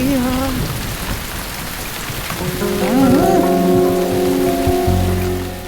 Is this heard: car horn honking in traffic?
no